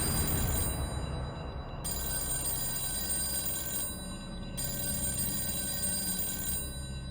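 A telephone bell rings in repeated bursts with short gaps between them, fairly quiet against a steady low background hum, and no one speaks.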